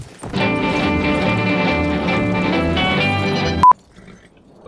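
A horse galloping in the video game Battlefield 1, with loud, steady clip-clop hoofbeats that run for a few seconds, then stop abruptly and drop to quiet.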